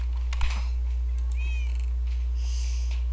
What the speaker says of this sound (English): I think it was my real life kitty cat, my cat in real life